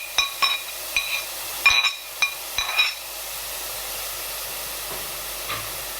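Beetroot and gooseberry being sautéed in a pan: a soft, steady sizzle broken by several sharp scraping stirs early on, then quieter hissing.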